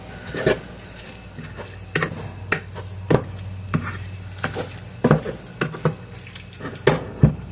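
Ground beef cooking in a pan, a constant low sizzle broken by repeated sharp clinks and scrapes of a utensil against the pan at irregular intervals, with no one talking.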